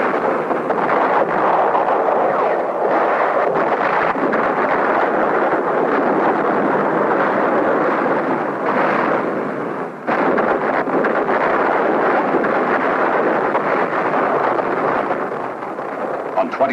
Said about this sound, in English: He steps up the intensity of his assault, scores a hit on the Marine ammunition dump.